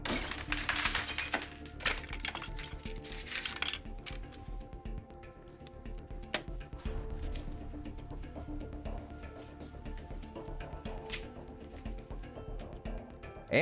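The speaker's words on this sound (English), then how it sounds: "Walt then smashed the frame and used the dollar to buy a soda from the vending machine." A glass picture frame gets smashed, opening with a loud crunching shatter of breaking glass, then scattered clinks and small cracks of debris settling over a low background.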